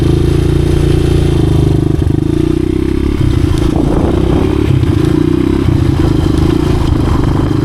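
A 1986 Honda XR200R dirt bike, its idle problem recently fixed, roars loudly up close as the rider shifts gears, the engine note dropping and changing pitch partway through under a rough, clattering drone.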